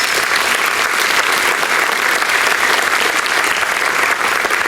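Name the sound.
banquet audience applause for student athletes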